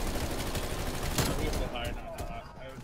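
Gunfire in the Call of Duty Cold War video game: a short burst of shots rattles over a dense mix of game noise, with a player talking.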